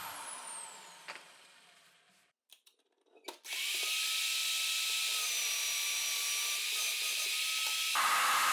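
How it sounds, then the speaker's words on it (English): A power drill bores through two pieces stuck together with double-sided tape on a homemade drill press, starting after a few brief clicks and then whining steadily and loudly for several seconds before cutting off. "I'll also use double-sided tape to drill the two pieces."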